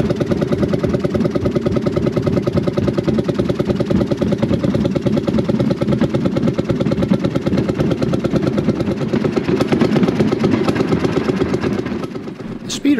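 A narrow gauge railway speeder running at East Broad Top near Robertsdale, its small engine chugging loud and steady throughout with a rapid putter, easing slightly at the very end.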